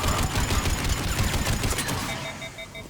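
Sustained, loud automatic gunfire from several weapons during a battle on Omega in Mass Effect 3, a dense continuous fusillade that thins out toward the end.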